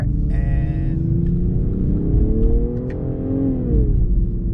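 A 2022 BMW M240i xDrive in Sport Plus and manual mode growls as it accelerates through an 8-speed automatic. The engine note is loud and steady, rising in pitch, dipping briefly, then climbing again.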